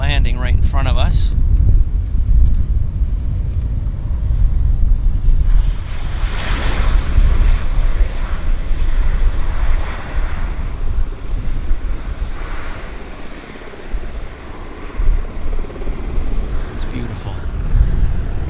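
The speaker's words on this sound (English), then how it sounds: "we've got a Q400 landing right in front of us" A Q400 turboprop landing at Vancouver Airport: a loud, broad engine roar with heavy wind buffeting on the microphone, sustained and slowly fading, with a voice talking over it.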